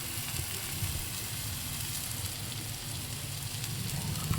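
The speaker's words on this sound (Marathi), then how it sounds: "आता टाकते मसाला" Homemade masala spice hits hot oil for crab masala, giving a continuous dense sizzle and crackle that holds steady and swells slightly near the end, with no talking.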